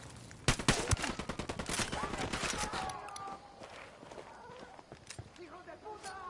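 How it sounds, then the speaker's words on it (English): Rapid bursts of gunfire from the video game Ghost Recon Wildlands, dense automatic shots at first that thin into scattered distant pops, with spoken voices running underneath. "Bajo el fuego de armas enemigas y no sabemos cuántos son."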